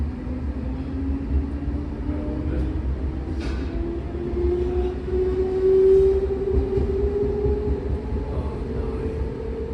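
A Class 420 Munich S-Bahn S20 train runs eastbound out of Pasing, heard from inside the carriage as a steady rumble with a rising motor whine and occasional rail clatter.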